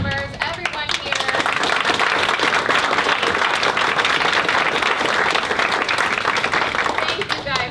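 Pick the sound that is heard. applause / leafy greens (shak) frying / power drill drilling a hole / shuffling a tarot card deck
applause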